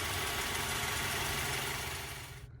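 A 2010 Mazda 3 2.0-liter four-cylinder engine with a manual transmission idles with a steady, faint mechanical hum and slight knocking, cutting off near the end, with no voices.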